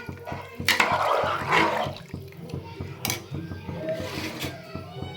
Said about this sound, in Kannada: ಇವಾಗ ಅಕ್ಕಿಗೆ ಎಷ್ಟು ಕನ್ಸಿಸ್ಟೆನ್ಸಿಲಿ ಬೇಕು ನೀರು ಅಷ್ಟು ಹಾಕ್ಕೊಂಡಿದ್ದೀನಿ